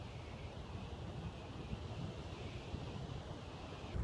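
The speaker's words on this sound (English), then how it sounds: "It is a fairly brisk windy day, and it is raining quite a fair wee bit." Brisk wind and steady rain in the woods, a continuous broadband rushing hiss that stays even and fairly loud throughout, with no voices.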